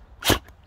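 A Boxer dog gives a single short, sharp sneeze, a quick burst close to the microphone in a quiet room.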